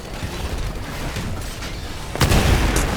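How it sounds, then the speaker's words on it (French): A frag grenade bursts in the Titanfall beta, a sudden loud boom breaking over a continuous roar of game noise and rumble, close and harsh. "je me suis fait tuer par une grenade frag"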